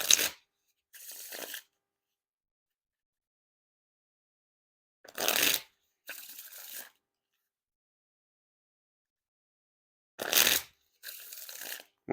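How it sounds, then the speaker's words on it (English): Three rounds of shuffling Cabinetarium playing cards by Art of Play, each a quick riffle followed by a softer bridge cascade, separated by silence; close and crisp. "And now time for the Riffle Shuffle or Bridge Shuffle."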